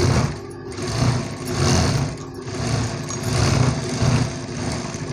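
A sewing machine runs continuously while topstitching a blouse, a close, steady mechanical whir and needle rattle that swells and eases slightly in speed, with no voices.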